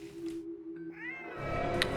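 A cat in the video game The Hand of Glory lets out a drawn-out meow, clear and up close, over a faint steady background hum.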